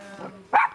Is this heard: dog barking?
yes